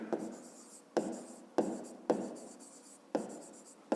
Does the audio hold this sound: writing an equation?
yes